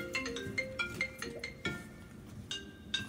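A mobile phone rings in a room, a repeating electronic ringtone with bright chiming notes recurring several times at a steady pace, fairly close and clear.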